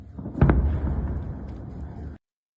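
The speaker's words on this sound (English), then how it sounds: "That sounded like a bomb." Distant explosions in Karaj, Iran: a heavy low boom rises sharply near the start, then a sustained rumbling roar persists for about two seconds before cutting off abruptly.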